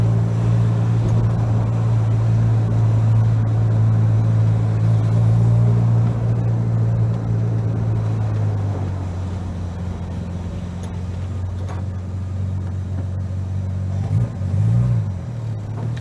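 Dacia 1310 engine pottering along at about 10 mph in second gear, a steady low drone that drops slightly in pitch midway, heard close from inside the car with no talk.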